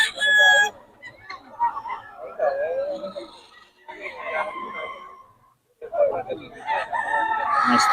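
A young stag rooster at an outdoor market crows in short, rough bursts close by, with other birds and people talking underneath amid busy background noise.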